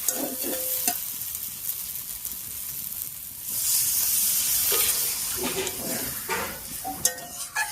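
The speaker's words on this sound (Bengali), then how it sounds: "এবারে ঝোলের জন্য জল দেবো।" Water poured into a hot kadai of fried-down pumpkin leaves and potato for curry gravy sets off a loud rising sizzle and hiss, with stirring scrapes before and after the burst, close up and without talk.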